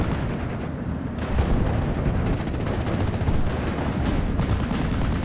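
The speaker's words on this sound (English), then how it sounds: "Let's go for the mortar fire again" Mortar fire and battle noise in the WWII strategy game Steel Division: Normandy 44 form a dense, continuous rumble of booms and distant explosions that stays loud and steady throughout.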